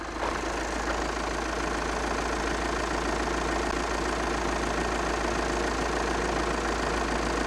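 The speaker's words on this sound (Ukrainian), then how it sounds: "Як ви можете чути, працює абсолютно мягенько." Volkswagen Passat B7 Alltrack 2.0 TDI diesel engine idling close up, a steady loud even rumble with a faint rhythmic diesel clatter and no talking.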